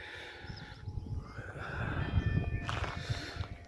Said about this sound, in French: on a le droit au son de cloche